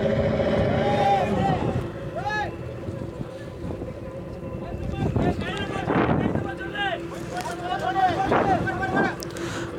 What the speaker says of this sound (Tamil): இதோ தற்பொழுது இங்கிருந்து இந்த விசைப்படகு கிளம்புகிறது